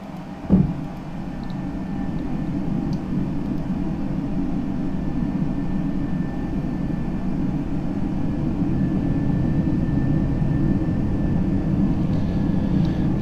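An Airbus A321 on approach in a flight simulator game, flaps being lowered, gives a steady, full engine and airflow drone that holds evenly throughout, with a single soft thump near the start.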